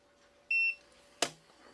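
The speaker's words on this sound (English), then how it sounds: "the beeps that you might have heard when I press the buttons to access the safe with the code" Keypad beeps from an Onnais Iron Pro Max gun safe: one steady electronic beep lasting about a quarter second, then a sharp click-like tone shortly after, close and clear against a quiet room.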